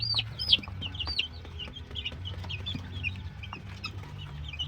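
Chicks and chickens clucking and peeping at a small farm, with several bright chirps over a low, steady murmur of clucks, moderately near and without talk.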